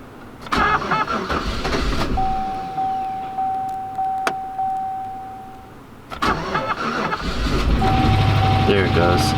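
Chevrolet Silverado Z71 auction truck engine cranking and catching, then revving loudly and settling into a rough run, with a steady tone through the middle and voices talking over the noise.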